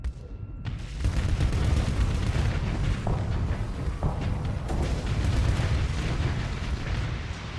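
The Giga Cannon in the Starsector space game fires in a continuous roaring barrage of dense, loud explosive booms with occasional sharper cracks, lasting throughout without speech.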